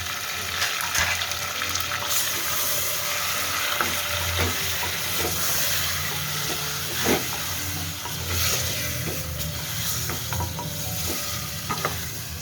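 Ginger, garlic and chili paste sizzles in hot oil for mutton korma, a steady frying hiss with scattered stirring clicks and scrapes of a spoon against the pot, close and continuous.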